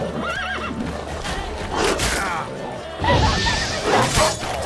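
A horse in The Witcher 3 lets out a shrill whinny, followed by hoof clatter and a second neigh amid combat crashes and game noise, moderately loud and close.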